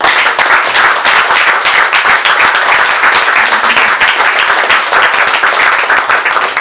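A congregation at a prayer camp consecration service breaks into loud, dense applause and shouts of acclaim, a close, continuous roar of many hands clapping.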